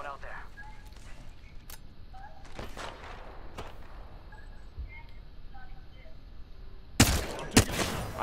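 Gunfire in the battle-royale video game Apex Legends: scattered sharp shots early on, then a loud cluster of close blasts near the end, heard beneath a talking voice.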